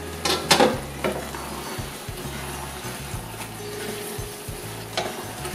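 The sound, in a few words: chicken and tomatoes frying and being stirred in pan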